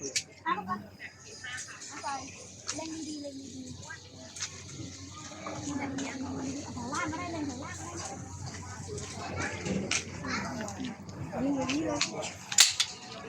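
Toy guns fired at targets in a shooting game at a Thai temple fair, scattered small sharp pops under busy crowd chatter, with a louder crack near the end.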